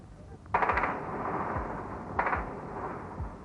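Gunfire echoing through wooded hills near Srebrenica in 1993, two sharp reports about a second and a half apart, each followed by a rolling echo that fades slowly over a low rumble.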